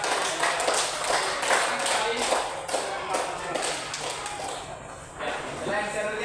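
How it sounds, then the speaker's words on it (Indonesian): A class of schoolchildren applauds all the groups after an experiment lesson, a steady loud patter of many hands clapping together nearby, continuing for several seconds with voices mixed in and softening slightly toward the end. "kita sekali lagi aplaus untuk semua kelompok"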